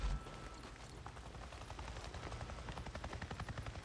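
A helicopter in the game Days Gone thumps steadily with a constant engine roar, loud and close throughout, with a game-like mix.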